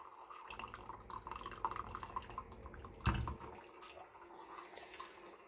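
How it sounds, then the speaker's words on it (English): Hot water is poured over coffee grounds in a pour-over coffee maker, a soft trickling with faint drips and one brief louder splash, close by and with no talking. "And then we're just going to kind of pour in figure eights, try to pour all over."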